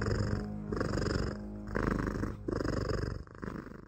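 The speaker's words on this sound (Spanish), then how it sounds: "se levantó repentinamente, ronroneando con fuerza" A cat purrs loudly and close in a steady rhythmic cycle, each breath a deep rumbling pulse with short pauses between, alone without talk.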